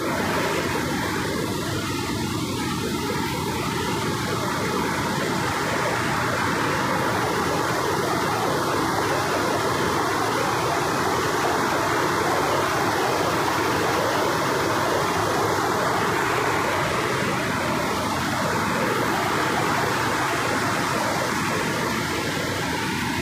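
Steady, loud rush of a waterfall near a forest temple, a broad continuous roar of falling water filling the whole stretch without pause or voices.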